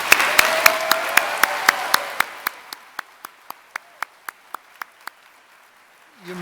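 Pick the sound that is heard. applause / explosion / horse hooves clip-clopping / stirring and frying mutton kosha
applause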